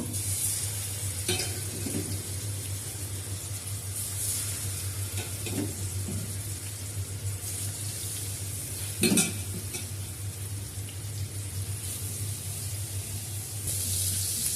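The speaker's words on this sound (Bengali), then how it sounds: "ভাজা হচ্ছে মাছগুলা" Fish seasoned with turmeric and salt frying in oil in a frying pan, producing a steady close sizzle and crackle with a low hum underneath and a few louder spatters and scrapes.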